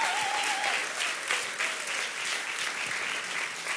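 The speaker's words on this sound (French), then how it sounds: "Alors, on peut applaudir bien fort." A church congregation applauds a pastoral couple, a broad, even wash of clapping heard throughout at moderate level, with a faint sustained tone early on.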